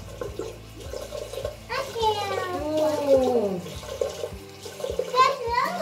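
Water sloshes and splashes in a bath, with a steady run of soft splashes and rhythmic knocks under lively talking from an adult and a child.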